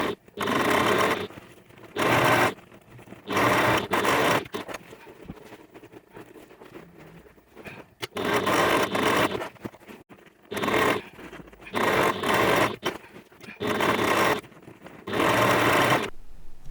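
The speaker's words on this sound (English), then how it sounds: "we're going to stitch across the bottom like that, and then when we get to the edge we're going to flatten that out and stitch across there as well" Sewing machine stitching across the bottom of a backpack, running in several loud, steady bursts of a second or so each with short quiet pauses between them.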